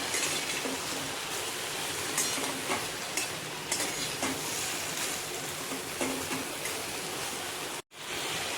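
Ridge gourd is stirred in a pan over a soft, steady sizzle, with periodic scraping strokes at a moderate pace that end in a brief dropout near the finish.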